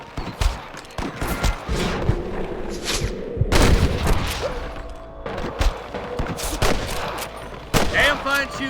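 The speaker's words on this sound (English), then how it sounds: "Damn fine shooting, boys." Rapid gunfire from a Red Dead Redemption lawman shootout, dense overlapping shots and bursts close by throughout, with a loud volley near the middle and game voices mixed in.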